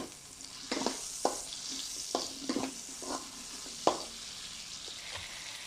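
Onions and chili sizzle in a pan while being stir-fried for ginataang tulingan, a steady frying hiss broken by several sharp clatters of stirring, close and moderately loud with no talk.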